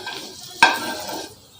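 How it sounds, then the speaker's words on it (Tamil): Onions fry in a pan at a roadside-style chicken fry, a soft sizzle broken by one sharp spatula stir and scrape near the middle. "இப்போ அதை கொஞ்சம் ஃப்ரை பண்ணி எடுத்துக்கலாம்."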